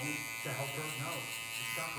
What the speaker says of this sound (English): Normally I'd go in with my clipper open, then blend that section out